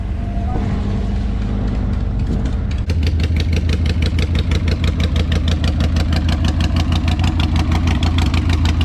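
A Subaru BRZ engine fresh from a coilover install starts up and settles into a steady, rhythmic idle after a brief stretch of background noise, close and fairly loud with no talk.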